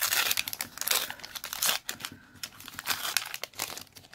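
A Disney Panini Mickey sticker booster pack is torn open by hand, with close, continuous crinkling and crackling of foil wrapper in uneven bursts for several seconds and no talking.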